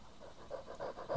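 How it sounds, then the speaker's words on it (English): Hellhounds in the video game Warcraft Adventures pant in quick, rhythmic breaths, a close, moderately quiet series of huffs building slightly toward the end. "Oh, just some friendly hellhounds, I guess."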